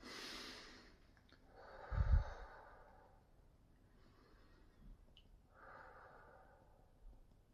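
Slow, deep breaths during EFT tapping on the carotid point: a soft, airy inhale-exhale cycle repeating alone, close and quiet, with a brief louder sniff-like puff in the middle.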